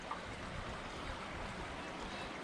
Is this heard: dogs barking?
no